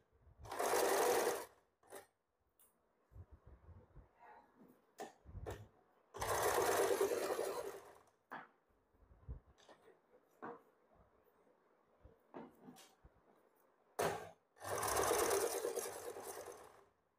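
Sewing machine stitching an umbrella frock: three loud bursts of fast stitching separated by quiet stretches with small handling clicks and soft background voice.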